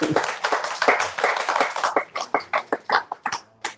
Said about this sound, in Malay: Tepuk tangan sikit.